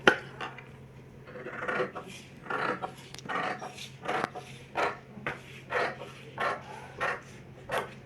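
Scissors snipping through petticoat fabric in repeated cuts, each crisp crunching stroke spaced about half a second apart, close up over a low steady hum.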